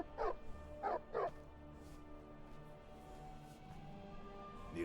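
A trained war dog in a Skyrim Special Edition game barks three times in quick succession near the start, loud and close, followed by quiet ambient background with no further barks.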